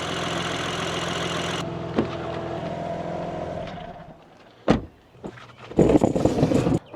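A rebuilt BMW G80 M3 engine idles steadily and close by for several seconds, then drops away into quieter mechanical clicks and a couple of sharp knocks. A burst of rustling, clattering noise follows near the end.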